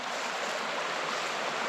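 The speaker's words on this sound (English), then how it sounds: "got a little cascade right by my campsite" Water spills over a small cascade on Hyner Run beside a campsite, producing a constant, dense hiss and rush heard up close and alone.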